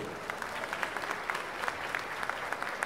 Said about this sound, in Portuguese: Aplausos ao Clube Monte Líbano!